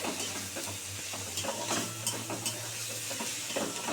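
Spices and small sea fish sizzling in a pan while being stirred, a steady close frying hiss with soft scraping stir strokes throughout, no voices.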